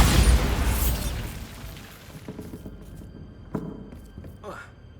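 Bombarda blasting spell in the game Hogwarts Legacy, a loud booming explosion at the start that rumbles and fades over a few seconds, followed by scattered debris thuds and pops.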